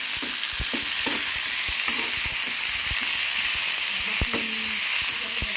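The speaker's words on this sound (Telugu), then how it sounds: "ఆనియన్స్ ఫ్రై అవుతున్నప్పుడే టమాటాలు వేసేసుకున్నాం. టమాటా కరివేపాకు వేసుకొని తీసుకున్నాం." Onions, tomatoes and curry leaves frying in a pan, a dense steady sizzle with regular spatula scrapes and taps, close up with no talking.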